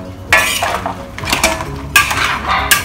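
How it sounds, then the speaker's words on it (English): Chilli crab pieces get stirred in a pan with salt, giving a run of clanking metal-on-metal scrapes and clinks in irregular bursts, loud and close. "Stir them around."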